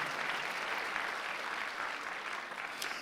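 A church congregation applauds during a Sunday worship service, a continuous crackling wash of clapping that stays fairly faint and even for about three seconds.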